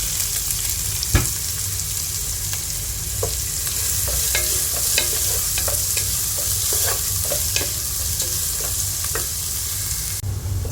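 Chopped onions sauté with ginger and garlic in a pan for a chicken curry, a steady close sizzle broken by frequent clinks and scrapes from a stirring spoon, with no talk.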